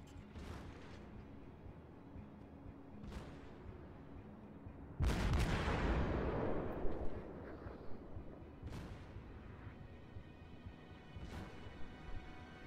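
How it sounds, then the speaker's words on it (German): Naval gunfire and high-explosive shell hits in World of Warships, with a Tier 7 Yorck cruiser in battle: sharp booms at scattered intervals, then one heavy, long rumbling blast midway, all fairly faint. "Eine HE-Granate hat getroffen."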